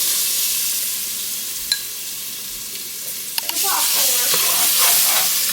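Onions hit the hot roux in a pot of chicken and seafood gumbo, bursting into a loud steady sizzle after a quieter simmering hiss with a couple of sharp clicks.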